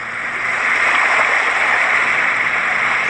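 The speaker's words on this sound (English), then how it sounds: "Sounds like some surf, some water running." Steady broadband rush of surf and running water from a Roffie white noise sound machine, a continuous even wash of sound with no breaks.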